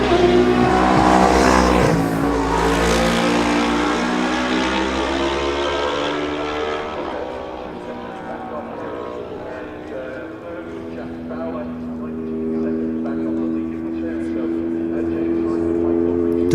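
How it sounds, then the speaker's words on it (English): Suzuki and Kawasaki racing motorcycles at the Manx Grand Prix newcomers race at Ballacraine, a loud close engine roar sweeping past and fading into the distance, then another bike approaching, with a commentator talking over it. "The next 2 riders, again in close order, are number 15 David Murphy on his Suzuki and number 28 Michael Rees on his Kawasaki"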